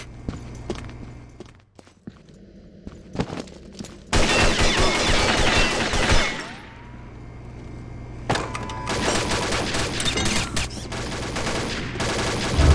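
Rapid bursts of automatic and single gunfire in Counter-Strike, loud and close, with footsteps and quieter gaps between volleys, then sustained shooting in long dense stretches.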